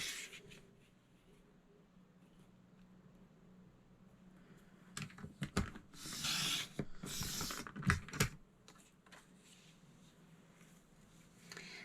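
Paper is cut for a scrapbook craft layout on a trimmer, a quiet rubbing slide followed by a burst of crisp rasping strokes in the middle, then faint handling noise.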